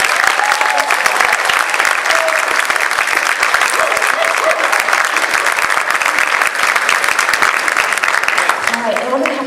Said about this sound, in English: So you give them a big round of applause.